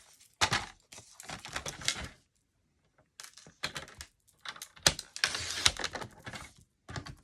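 Card paper for a handmade stamped card being trimmed down with a paper trimmer, several separate bursts of crisp slicing and scraping strokes, close and clear with short silent gaps between them.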